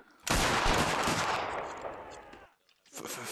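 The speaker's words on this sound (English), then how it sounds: "Guard present. Fire." Rifle volley fire in an Anglo-Zulu war video game, a loud sustained burst of overlapping gunshots that rings out and decays over about two seconds before the next shots start.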